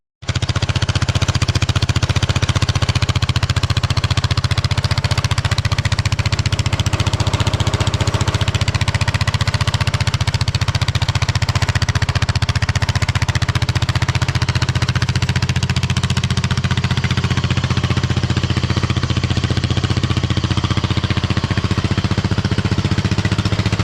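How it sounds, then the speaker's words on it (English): A loud custom lawn mower engine runs steadily close by, a constant deep rumbling drone with a hard, rattly edge that holds without pause for the full length. "What's a loud lawnmower, right?"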